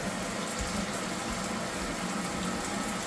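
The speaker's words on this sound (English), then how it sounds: "I want to rinse it. Right there. And I get the faucet." Kitchen sink faucet running steadily, a constant close rush of water filling the sink with no break and no voices.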